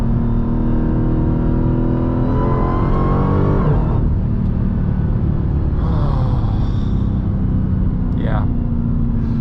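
Dodge Challenger SRT Demon engine revving hard while driving, a loud close rising roar that climbs through the gears, drops sharply at a shift, then settles into a steady rumble with a brief chirp near the end.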